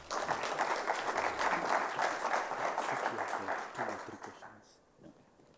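An audience claps for a speaker at the end of a cyber week morning session presentation, a dense burst of applause with some voices mixed in, fading out toward the end.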